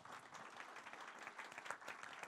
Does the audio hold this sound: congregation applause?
yes